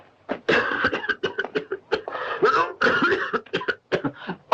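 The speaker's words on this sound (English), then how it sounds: "When I drink water, it makes me cough." In a western film, a man with a bullet lodged in his lung coughs repeatedly in harsh, choking bursts after drinking water, a rough fit of close, loud hacking with short gasps between.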